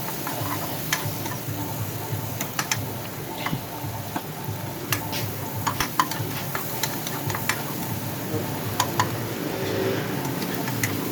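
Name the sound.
tomatoes cooking in a pan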